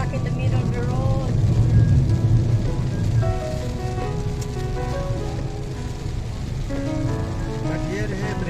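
Steady rain pours down in Doha, Qatar, on a flooded road, a dense, constant hiss and patter that swells briefly early on and holds at an even level, with faint voices and tonal sounds mixed underneath.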